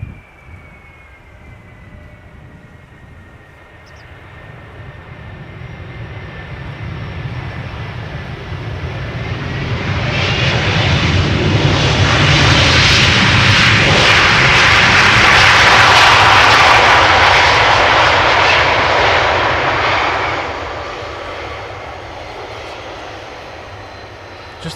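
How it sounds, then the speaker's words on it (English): A 19-year-old Delta Airlines jet airliner arriving at Amsterdam Schiphol, its engine roar building from a distant whine to a loud rushing peak, then slowly fading as it passes. "Delta Airlines Flight 164 arrived from Minneapolis, Minnesota, 7 hours and 36 minutes underway."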